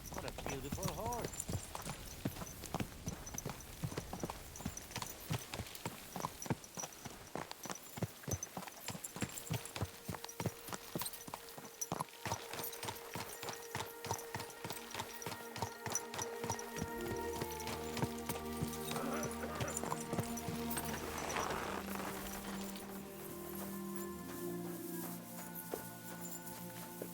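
In the video game Kingdom Come: Deliverance II, steady clip-clopping of horse hooves at a walking pace, close and continuous, with musical tones rising in the background later on.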